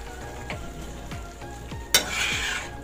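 Egg stew cooking on low heat in a pan and stirred continuously, with a spoon scraping the pan in a regular rhythm about every half second over a gentle sizzle, then one sharper clink.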